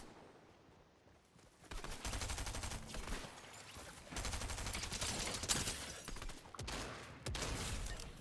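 Bursts of rapid Fortnite video game gunfire crackle in several volleys, loud and close, with brief quieter gaps between them.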